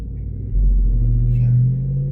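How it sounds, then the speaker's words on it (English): Loud car stereo from a neighbouring car on a city street, heavy booming bass that thumps in close by and holds steady, with a low engine rumble beneath. "Next to me, very loud car stereo."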